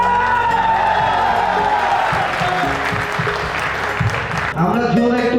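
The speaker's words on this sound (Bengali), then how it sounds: "আমরা জোরে একটু হাততালি দেই।" Loud, sustained clapping with cheers and whoops from an audience at an event where a group presents a CFMOTO SR 300cc motorcycle to its admin, with voices talking over the crowd.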